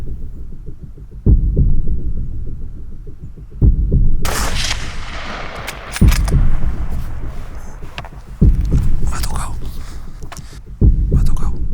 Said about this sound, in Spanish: El cazador dispara.